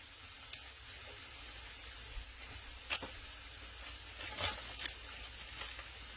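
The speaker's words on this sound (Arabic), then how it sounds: "انا هحمرها مع البصل" Thin-cut vegetable scraps, including zucchini, fry with onions in a pan, a soft, steady sizzle with occasional louder crackles and stirring taps, close and alone.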